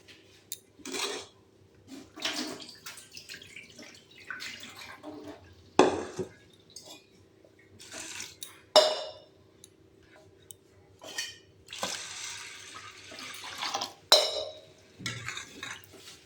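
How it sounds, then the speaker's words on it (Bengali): Lentils for khichuri are washed in a pot, with intermittent splashes, swishes and clinks of water and grain coming in short bursts amid quiet kitchen pauses. "আর ডালটাকে বেশ ভালো করে ধুয়ে দিই"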